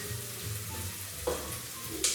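Sweet potato hits a saucepan and sizzles, a soft steady frying hiss with a couple of brief clatters as pieces are added, quiet and close.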